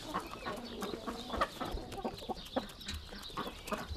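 Hens cluck in a busy farmyard, a steady scatter of short clucks and calls at moderate distance, with no talk over them.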